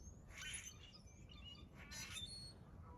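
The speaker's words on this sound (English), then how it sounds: "I feel like I'm competing with the birds still" Outdoor birds squawk and chirp in two brief bursts, faint and a little distant, over a low background rumble.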